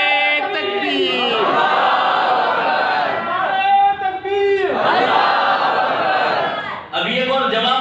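A large gathering at a religious lecture on the Prophet's life shouts the takbir slogan in unison, several loud sustained collective shouts in waves with brief pauses between them, crowd voices blending into one roar.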